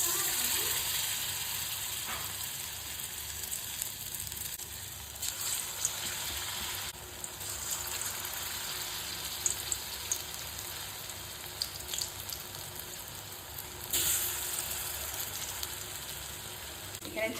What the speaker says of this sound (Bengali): তো এইভাবেই ভেজে নেব।